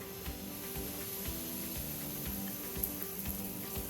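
Butter melting in a hot pot while making Swedish pancakes gives a steady, moderately quiet sizzle with scattered soft crackles and pops throughout, with no voices.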